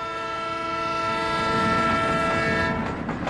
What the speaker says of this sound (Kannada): ಟ್ರೈನ್ ಹೋಗ್ತಾ ಇದೆ.